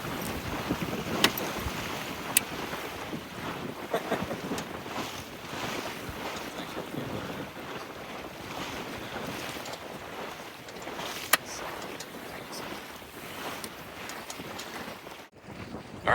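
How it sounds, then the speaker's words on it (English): A small sailboat moving fast in strong wind, with steady rushing wind and water noise close to the microphone and a few sharp knocks, loud and continuous without speech. "It's really amazing how fast you feel like you're going on a small sailboat."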